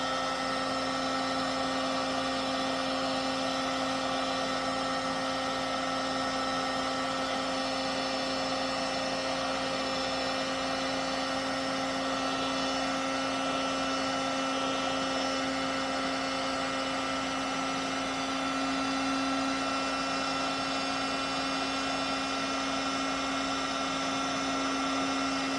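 A heat gun blows steadily to shrink heat-shrink tubing on wiring for a fuel sending unit in a 2001 Bass Tracker 175XT Pro Team boat, giving a constant loud whirring hum with a fixed tone throughout, with no speech.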